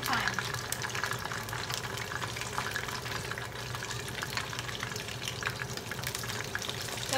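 Korean fried chicken pieces crackle and sizzle steadily in hot oil during their second fry, a continuous bubbling hiss with voices talking faintly in the background.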